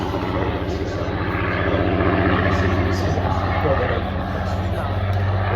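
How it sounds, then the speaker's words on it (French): A Vickers propeller airplane flies past at a nighttime air show in Méaulte, a steady droning engine with a pulsing propeller beat under continuous French commentary from an announcer. "Parce que c'est un avion Vickers super marrant."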